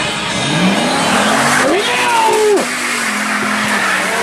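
A white Dodge truck revs hard through a mud pit, its engine climbing and falling in loud close surges with a brief squealing whine, while a voice is faintly heard underneath.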